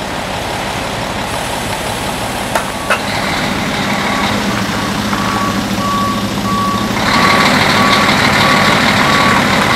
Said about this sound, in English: And the salt truck's stuck.